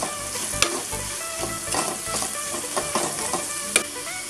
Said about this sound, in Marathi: आता हे मिक्स करून घ्यायचं आहे सगळं, मिक्स करून घ्यायचं आहे आपण